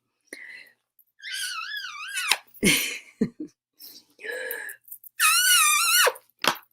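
A voice imitates an elephant's trumpeting with wavering, high-pitched wails, broken by short breaths and bursts, loud and close.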